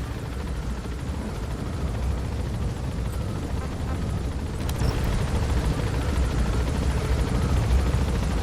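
Helicopter in flight in Metal Gear Solid V, a steady close rotor thump and engine drone that holds throughout without a break.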